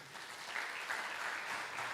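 Steady applause from a congregation honoring the Lord during a Spanish-language church service, a soft even wash of clapping that holds without pause.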